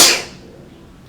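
A single loud, sudden sneeze bursts out at the start and fades quickly into quiet room tone.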